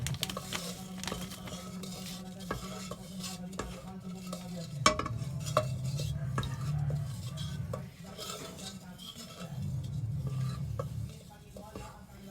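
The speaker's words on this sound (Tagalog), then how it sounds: "Mix the jelly mix with water." Jelly mix being stirred with water, with a spoon scraping and clinking steadily against the container at close range, the swirling liquid sounding throughout with no talk.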